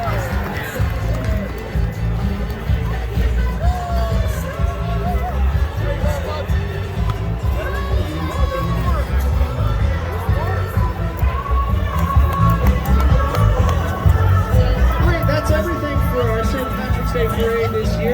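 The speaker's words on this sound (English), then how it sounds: "Ladies and gentlemen, let's have a nice round of applause for them." A crowd at a St. Patrick's Day parade in Erie cheers with a continuous roar of many voices and scattered shouts for the whole stretch, with people talking nearby.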